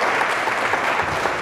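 Audience applause at a 2011 provincial election all-candidates debate, a dense steady clapping from a crowd filling the short moment.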